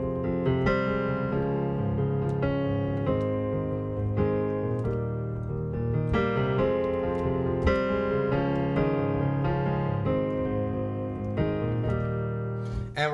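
Solo piano plays the introduction to a song, a steady, close and fairly loud stream of chords repeating in an even rhythm for about thirteen seconds, with no voices.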